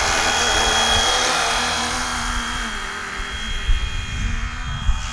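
A remote-control FLY WING UH-1 Huey helicopter flies with a steady, loud whirring engine drone and high whine, humming continuously, slightly fading toward the end, with a couple of brief bumps.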